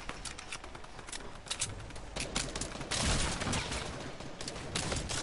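Rapid bursts of video game gunfire crackle throughout an online arena match, dense overlapping shots near and far with no speech heard.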